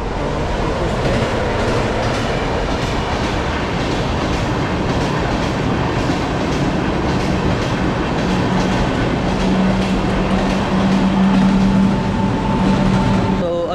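A train rumbles loudly and continuously nearby at Parel station in Mumbai, with rhythmic clickety-clack of wheels and some faint squealing, a voice briefly audible underneath.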